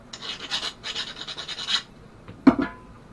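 A small nut threaded by hand onto a cut bolt to clean its thread, giving a dry metallic rasping that runs in short bursts for under two seconds, then two sharp close clicks.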